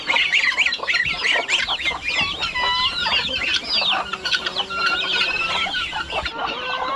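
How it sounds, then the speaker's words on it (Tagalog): Newly hatched chicken chicks on a farm, peeping and cheeping in a busy, continuous high chorus with hen-like clucking mixed in, close by and fairly loud throughout. "Bagong sisiw naman oh, sisiw ng manok."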